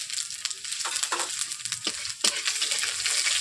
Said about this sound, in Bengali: এরপর দিয়ে দিচ্ছি ফোড়ন।